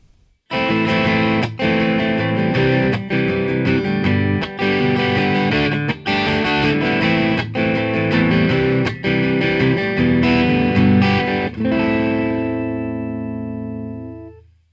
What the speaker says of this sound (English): So that was just a series of open chords.